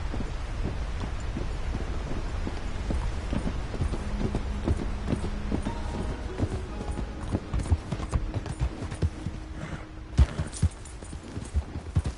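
Hooves clip-clop in a fast steady rhythm as a horse gallops in Red Dead Redemption 2, with a low rumbling ambience underneath and occasional louder thuds.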